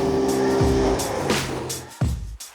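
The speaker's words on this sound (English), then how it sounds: "the Scrambler is powered by Polaris' proven 952cc parallel twin-cylinder ProStar engine" A 2023 Polaris Scrambler XP 1000 S ATV with a 952cc parallel twin-cylinder ProStar engine runs close by, revving and shifting with falling pitch sweeps and a loud burst near the end, with no talking.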